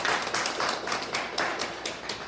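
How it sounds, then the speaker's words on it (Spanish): Church congregation clapping steadily in rhythm during prayer and worship, a dense, even patter of many hands at a moderate level with no voices on top. "Dar un aplauso al Señor."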